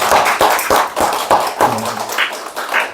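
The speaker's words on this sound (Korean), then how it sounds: "우리 환영의 박수로 환영하도록 하겠습니다" A church congregation at a Christmas thanksgiving service claps in welcome for visitors, sharp hand claps in a loose, uneven rhythm, close and fairly loud, with a few faint voices in the background.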